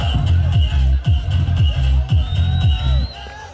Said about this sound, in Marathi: टाळ्या होत्या.